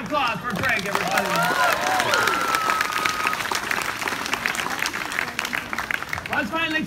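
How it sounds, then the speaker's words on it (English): An audience at a street show with a fire-whip performer claps loudly and steadily, with some cheering, while a performer speaks over the applause. "Another round of applause for Greg, everybody."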